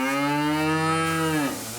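A single cow on a Slovenian family farm lets out one long, loud, close moo that holds a steady pitch and then drops off sharply at the end.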